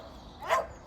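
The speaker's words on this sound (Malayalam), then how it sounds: "കനാലിൻ്റെ അപ്പുറത്ത് നിന്നാ കുരയ്ക്കണം" A dog barks once from across a canal on a winter walk, a short, distant bark standing out briefly from quiet outdoor background.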